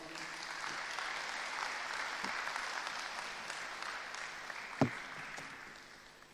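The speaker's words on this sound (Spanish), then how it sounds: "Un aplauso para el Señor" Church congregation applauding for the Lord after a sermon in a Spanish-speaking service, a steady wash of clapping across the room with a sharp louder clap near the end before fading.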